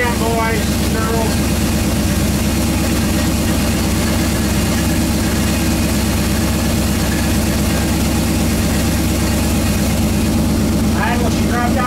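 A Chevy 350 engine being broken in idles at 500 RPM, a loud, low, steady rumble with a lumpy pulse, close up and continuous, with faint clanking near the start and end.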